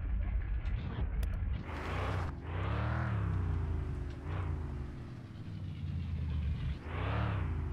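Engine of a car in the video game Mon Bazou rumbles and rises and falls in pitch as it accelerates and eases off, with creaks and mechanical clunks, loud and continuous.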